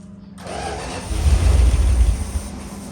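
A 1978 Dodge Aspen Super Coupe engine, unrun after thirty years, cranking over on the starter in a steady low churning rhythm for about two seconds, close and fairly loud, without catching.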